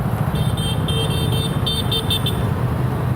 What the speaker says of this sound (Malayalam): അത്യാവശ്യം നല്ല ട്രാഫിക് ഉണ്ട്